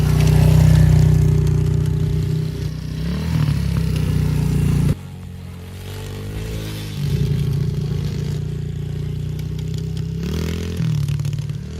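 A 125cc big wheel pit bike on a dirt quarry track, its engine droning loud and close, with revs dropping and rising through gear changes and a brief cut in the note partway through.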